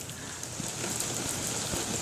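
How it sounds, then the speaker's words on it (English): Steady rain falling, a dense continuous hiss with scattered drop impacts, close and moderately loud throughout with no voices. "My God, it's raining."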